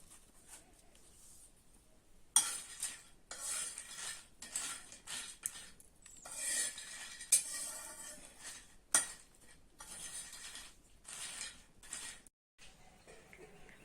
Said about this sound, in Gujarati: મારા માતાશ્રી કરે છે વાસણ ધોવાના છે હમણાં